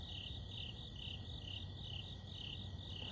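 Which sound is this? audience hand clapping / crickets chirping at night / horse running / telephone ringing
crickets chirping at night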